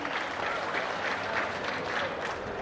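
Steady, dense clapping from a gathered audience congratulating officials at a review meeting, continuous and moderately loud with a slightly pulsing texture.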